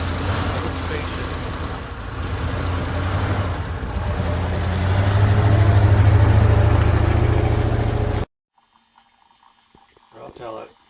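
A 1985 Porsche 928S with a rough-running engine drives at night, its engine rumbling steadily and swelling louder midway before cutting off abruptly, followed by faint quiet sounds.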